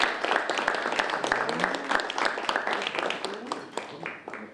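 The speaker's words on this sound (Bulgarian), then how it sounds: "Честито аплодисменти за новите членове." Members of a Sofia Rotary club meeting applaud their new members, a moderate spread of clapping with scattered sharp claps, while voices talk over it.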